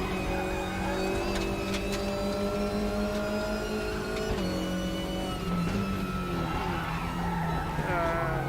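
Opel Astra TC touring race car engine in the RaceRoom racing game, droning steadily with rising and falling pitch through gear changes and braking, loud and continuous throughout.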